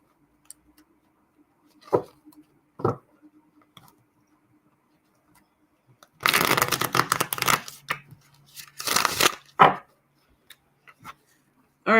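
Tarot cards being shuffled by hand: a couple of soft taps early on, then two bursts of dense riffling and card slaps, followed by a few lighter flicks, with no talking.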